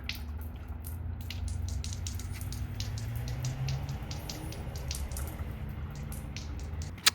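Scattered light drips of water fall from a 2016 Lexus RX350 tail light in quick irregular taps over a low steady hum, with one sharper drop near the end.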